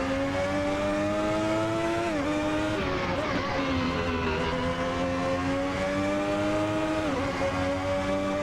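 Ferrari 641 Formula One engine in Assetto Corsa, a loud, steady high-pitched wail that drops sharply with quick gear changes mid-corner and climbs again, running continuously without pause.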